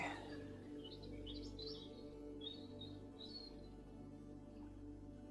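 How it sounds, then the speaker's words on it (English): Birds chirp and tweet outside an open window in short, thin, scattered calls, quiet and somewhat distant over a steady low indoor hum. "And if the birds are too loud,"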